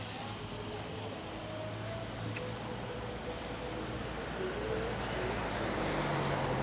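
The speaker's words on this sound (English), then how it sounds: "there is a fair amount of traffic noise" Steady traffic on a busy street in Thailand among food stalls and crowds, a constant broadband rumble of passing cars and engines with faint background voices, holding at an even level throughout.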